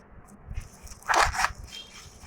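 A tough outer bract of a banana flower is peeled away by hand, making a short close crackling, tearing crunch that peaks briefly in the middle of a quiet moment.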